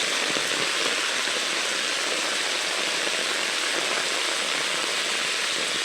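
Heavy rain pours down without a break, a loud and dense steady hiss of water that fills the whole clip, with no talking.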